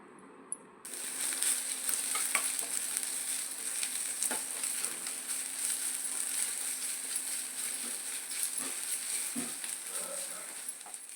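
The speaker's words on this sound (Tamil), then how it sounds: "இப்போ இந்த வெங்காயம் கலர் சேஞ்ச் ஆகி கோல்டன் கலர் வரது வரை வதக்கிக்கணும்." Onions sauté in a pan for chicken curry with ginger-garlic paste, giving a steady close sizzle that starts abruptly and runs on, broken by occasional clicks of a stirring spoon.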